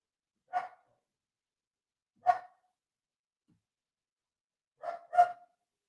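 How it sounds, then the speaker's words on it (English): An excited dog barks indoors, giving three separate woofs and then a quick double bark, each short and sharp against a silent background with no other sound. "My dog is excited."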